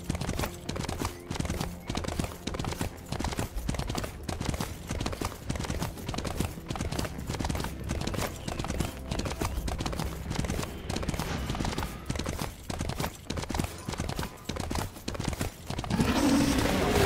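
Horse hooves gallop in a steady, rapid clip-clop rhythm for about seventeen seconds in a Smite match with Lancelot, loud and close throughout, with brief neighing and game sounds mixed in.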